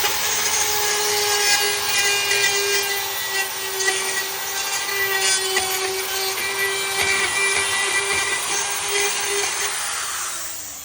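A steady, high-pitched whining grind of a drill-driven hole saw cutting through aluminum, running continuously for several seconds before winding down at the end.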